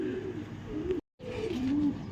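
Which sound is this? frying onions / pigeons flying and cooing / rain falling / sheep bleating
pigeons flying and cooing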